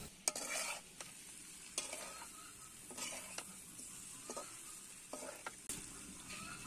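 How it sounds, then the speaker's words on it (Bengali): Raw green jackfruit pieces are stir-fried with spices in a pan, a steady soft sizzle broken by repeated scraping strokes of a spatula against the metal, moderately faint and without talk. "এখন ভালো করে অনেকটা সময় নিয়ে এই মশলার সাথে কাঁঠালগুলো ভালো করে কষিয়ে নিতে হবে।"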